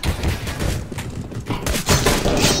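Gunfire in the video game Counter-Strike, a rapid string of loud, sharp shots and impacts crackling in irregular bursts across a few seconds.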